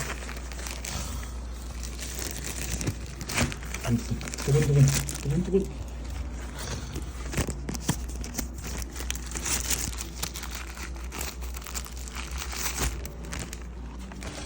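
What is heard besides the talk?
unwrapping plastic film from new Keychron K8 Retro keyboard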